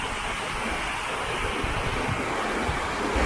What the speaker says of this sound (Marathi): आता आपण बघतो तरायचे व्हाळाला किती पाणी आलं ते